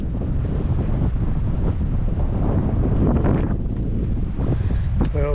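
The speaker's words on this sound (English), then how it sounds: "It is windy." Strong gale-force wind buffets a boat at the Avimore classic, a continuous loud roar of wind across the microphone with no voices.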